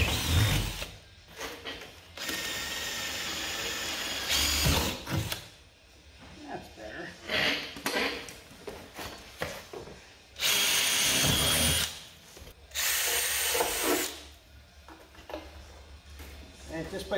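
A power drill bores out spot welds on a Silverado cab corner in repeated loud whirring bursts of a few seconds each, with pauses between them and someone talking in the gaps.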